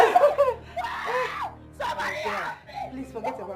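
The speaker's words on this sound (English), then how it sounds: "This scream is not ordinary." A woman screams and wails in distress in a Nollywood drama, with several loud, strained voiced cries broken by short pauses over about four seconds and no other talk.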